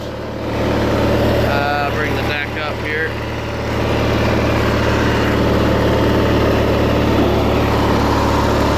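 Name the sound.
Simplicity 5216 hydrostatic riding lawnmower, 16hp Briggs and Stratton engine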